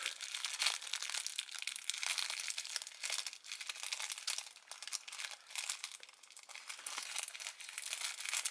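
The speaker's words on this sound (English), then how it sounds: "so you gotta deal with more tape" Tape peeling and crinkling off plastic packaging of a Lightning Collection Alien Rangers action figure set, close and continuous with irregular crackles, no talking over it.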